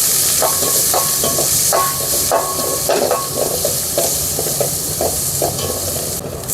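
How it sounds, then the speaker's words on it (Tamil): Small shallots sauté in hot oil with fennel seeds and curry leaves, a steady loud sizzle running throughout while a spoon stirs and scrapes the pan in regular strokes up close. "வெங்காயம் நல்லா வதங்கிருச்சு"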